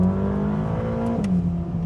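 A 2021 Ferrari Roma engine revving steadily from inside the cabin, its loud, continuous tone dipping briefly partway through before holding again.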